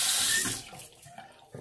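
A tap runs briefly as someone rinses off after shaving with a kamisori-style razor. Close, loud splashing water cuts off within a second, leaving faint drips and small movements.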